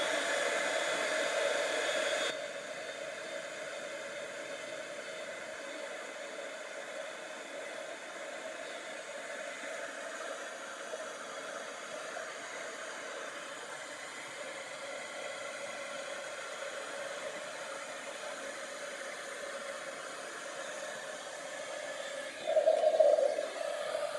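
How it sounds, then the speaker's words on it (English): A heat embossing tool blows hot air over a Stampin' Up! spinner card, a steady whooshing whir running almost without a break, with a short louder burst near the end. "I'm going to heat emboss this."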